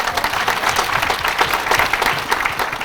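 A church congregation breaks into dense, sustained applause, many hands clapping at once in an even, continuous roar with no pauses.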